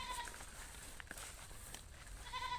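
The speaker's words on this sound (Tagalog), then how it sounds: "Pastol muna tayo ng alaga nating kambing." Faint goat bleats, a couple of short cries near the start and end, over a steady outdoor background hiss.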